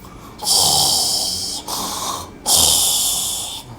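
A voice imitates snoring: two long, raspy, hissing breaths with a softer exhale between them, close and steady.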